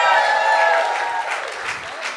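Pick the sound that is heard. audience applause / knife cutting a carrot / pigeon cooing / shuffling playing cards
audience applause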